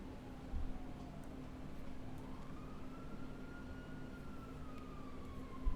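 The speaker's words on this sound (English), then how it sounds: "I hear sirens." A police siren in GTA wails, rising and falling slowly at a distance over a steady low engine hum, with no voices.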